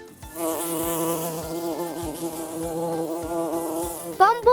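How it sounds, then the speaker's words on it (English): A bumblebee buzzes steadily and close by, a continuous droning hum that wavers slightly in pitch, with a brief higher whine near the end. "Bumblebee."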